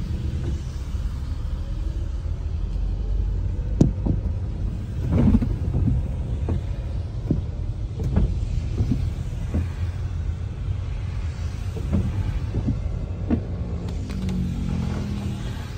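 Heavy road traffic on Molino Boulevard in Bacoor, Cavite: a steady low engine rumble with occasional passing vehicles and faint knocks, continuous and moderately loud, with no talk.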